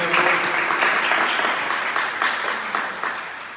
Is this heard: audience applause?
yes